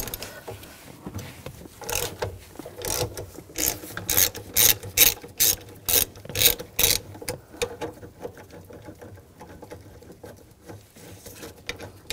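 A ratchet with a T50 socket loosens a seat bolt in a 2007-2013 BMW X5 3.0L, making rapid clicking bursts in a quick rhythm that grow loudest midway and then fade to quieter ticking.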